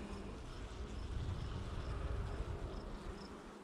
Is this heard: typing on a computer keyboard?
no